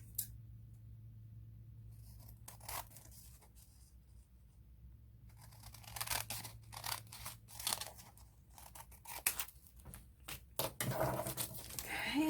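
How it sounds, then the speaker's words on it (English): Scissors snip through paper pages while a shabby chic journal is being made: quiet, close, irregular cuts and crisp paper rustles that grow busier and louder toward the end, with no one talking. "I get one page cut to the right size and then cut my other pages around it."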